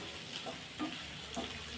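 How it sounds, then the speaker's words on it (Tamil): Cauliflower pepper fry being stirred in a pan over medium flame, a steady low sizzle with soft scraping and clinking of the spoon against the pan, close and continuous. "இப்போ இதை நல்லா கலந்து விட்றலாம்"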